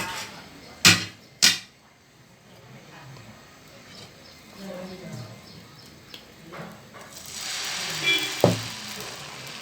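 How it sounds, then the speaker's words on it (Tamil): Dosa batter poured onto a hot griddle for masala dosa, with a couple of sharp knocks early on, then a soft crackle that swells into a brighter, steady sizzle near the end, close by. "இன்னொரு தோசையும் நான் ஊற்றி காமிக்கிறேன்"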